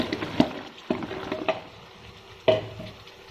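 Tomato and vegetables are tipped into a hot pan and stir-fried, with a few sharp clatters and scrapes of spoon on metal over a soft background sizzle.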